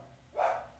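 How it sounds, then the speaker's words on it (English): A single short dog bark, somewhat muffled and indoors, standing out briefly over a quiet background. "sorry for my dog is barking."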